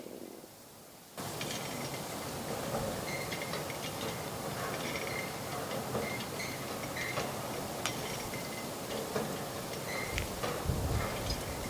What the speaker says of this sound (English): Noise of the windmill will lull you to sleep.